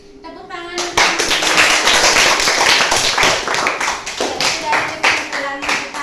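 A classroom group claps hands together, a dense burst of many overlapping claps that starts abruptly and carries on steadily for several seconds, with voices mixed in.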